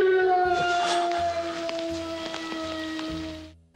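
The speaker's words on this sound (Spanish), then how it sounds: "Una vez más se escucha el aullido" Eerie sustained howl from a Twilight Zone episode, a long wavering tone with harmonics running nearly four seconds over a steady rain-like hiss and low rumbling pulses, ending abruptly.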